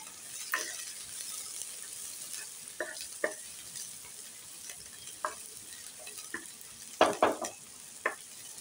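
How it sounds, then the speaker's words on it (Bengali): Onions frying in hot oil in a home kitchen, a steady soft sizzle running throughout with occasional sharp spatula scrapes and stirring clicks, louder bursts near the end, no talking. "পেঁয়াজটা ভেজে নেব।"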